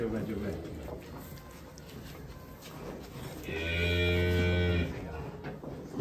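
Cattle on a feed farm where the animals are fattened on pellet feed give one long, loud, drawn-out moo partway through, while people talk nearby.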